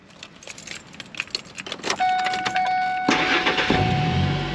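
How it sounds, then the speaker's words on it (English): Keys jangle and click close by before a truck's engine cranks and catches, settling into a steady loud idle rumble with a faint electronic tone over the start. "Let's start the truck."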